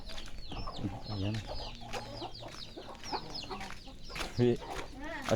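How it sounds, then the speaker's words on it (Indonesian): Chickens clucking in a village yard, repeated close clucks and calls from several fowl with brief crowing-like notes, over outdoor ambience and a person talking. "Ayam."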